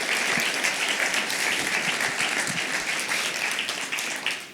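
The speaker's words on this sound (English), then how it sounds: "let's give a round of applause to our panellists who have joined us from all different parts of the world" An audience applauds panellists at an FIFDH 2024 activism panel, with dense, sustained clapping that stays loud and steady, then tapers slightly near the end.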